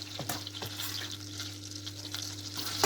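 Garlic and spring onions frying in hot butter in a pan make a steady close sizzle, with a few stirring clinks and scrapes, no talking.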